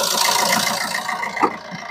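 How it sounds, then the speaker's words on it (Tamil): A 2012 Fiat Punto engine idling just after starting, a steady close-up mechanical hum with a faint rattle and one brief bump near the end. "வண்டியோட இன்ஜின் இப்போ நம்ம ஸ்டார்ட் பண்ணிட்டோம்"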